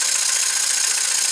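A Muncaster table engine running on steam from a 3-inch boiler gives off a steady, loud hissing rush with a faint rapid mechanical rattle underneath, continuous and unchanging, with no talk.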